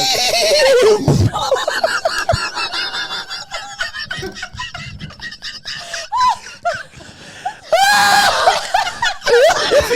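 A person imitates a horse neigh with a wavering, whinnying vocal cry during a boisterous drinking get-together, loud and close, with overlapping voices and laughter around it.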